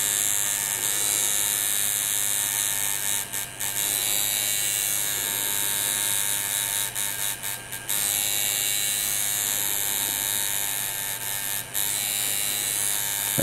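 A tattoo machine buzzes continuously while its needle shades black ink at the tip, a steady close electric drone with a few brief dips in level and no voices.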